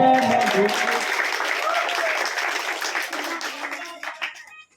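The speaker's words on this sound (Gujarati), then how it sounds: "ખૂબ જોરદાર તાળીઓ." An audience at a youth club's costume competition in Nadiad claps loudly and steadily, with voices mixed in, before the applause fades away over a few seconds.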